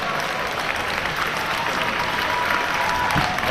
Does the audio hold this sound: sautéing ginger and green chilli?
no